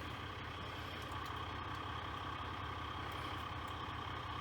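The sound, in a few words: throttle body butterfly rattling at idle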